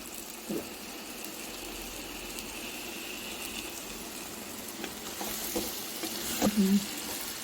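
An egg fries in oil in a pan on a stove, giving a steady soft sizzle with light scraping and stirring clatter, plus a few clicks near the end.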